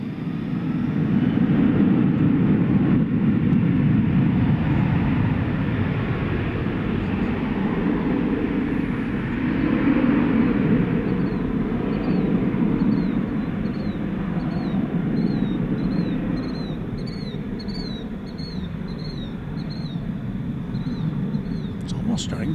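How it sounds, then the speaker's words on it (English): An American Airlines Airbus A321, bound for San Diego, on the runway at DFW airport after dark gives a steady, broad jet-engine roar heard from a distance, holding level throughout with only slight swells. "There you go, American Flight 2568. Who do we appreciate? Going to San Diego, California. Airbus A321 on Runway DFW after dark."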